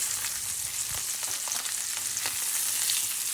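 Beef steak sizzles steadily in a hot pan, a dense crackling fry with a few soft thumps and stirring scrapes, close and moderately quiet with no voices.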